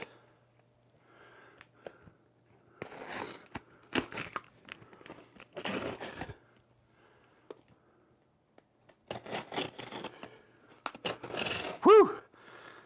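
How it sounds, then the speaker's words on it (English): Packaging around Presonus StudioLive 32SC and Yamaha DHR12M audio gear is cut open and handled, with scattered bursts of crinkling, tearing and snipping separated by quiet gaps, close and fairly soft. "So we'll use the scissors."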